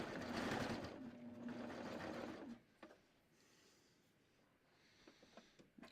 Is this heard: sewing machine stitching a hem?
yes